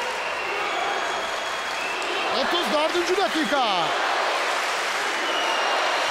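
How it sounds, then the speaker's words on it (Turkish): Crowd applause fills an indoor football match between TV8 and NTVSpor teams at a sports hall, a steady broadband roar lasting throughout while a commentator talks over it. "Sakarya İbrahim Büyükak'a ayakta alkışlıyor"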